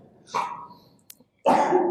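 Two sharp coughs sound close by, separated by a short pause, loud and abrupt against a quiet background.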